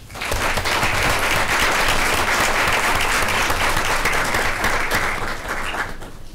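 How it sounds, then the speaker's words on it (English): Loud, steady applause from a school board meeting audience for the students of the month. It rises quickly, holds dense and even for several seconds, then fades slightly at the end. "one more round of applause for our RBC students of the month"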